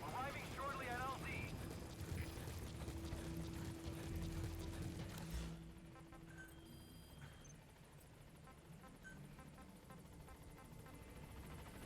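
A helicopter's rotor drone and engine hum fill a video game scene as the Pequod transport from Metal Gear Solid V arrives. The sound is steady and loud at first, then drops lower and continues under the game's other ambient sounds.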